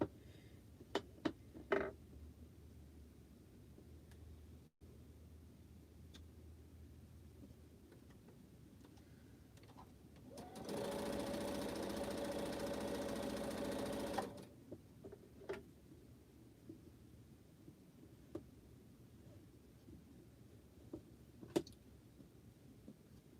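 A sewing machine stitches a quilt block in one steady whirring run of about four seconds, fairly close, with scattered light clicks and handling noises before and after in a quiet room.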